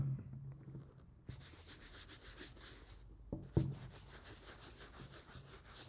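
Scrubbing a Jordan 1 Shattered Backboard sneaker in circular motions with cleaning foam gives a steady close-up rubbing hiss, broken by a couple of sharp knocks partway through.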